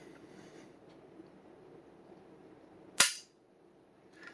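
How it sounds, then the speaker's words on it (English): A rifle trigger is pulled in dry fire, producing a single sharp mechanical snap of the sear dropping, close and clear against a quiet room, followed by a faint softer click. "as soon as you pull that trigger, it just drops that sear"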